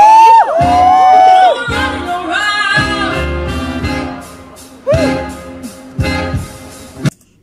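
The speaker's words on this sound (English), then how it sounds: "You can feel the excitement of the people in the background, the audience. They are as excited as I am. You can feel the screams, the ooh, they're everywhere." Concert crowd at a live show in Seoul cheers, whoops and screams in loud swelling waves, with singing and music running through the bursts before cutting off abruptly.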